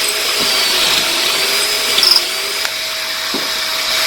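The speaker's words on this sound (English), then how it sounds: "what we're doing is basically we are pocket holding two holes" A power drill bores pocket holes into wood pieces for a rabbit cage's joinery, giving a loud continuous whirring motor drone with a brief higher squeal partway through and faint knocks of the workpiece.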